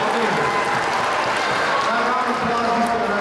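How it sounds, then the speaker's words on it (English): Audience applause at a school fundraiser assembly, a steady wash of clapping from a crowd that runs evenly throughout at moderate loudness. "Round of applause."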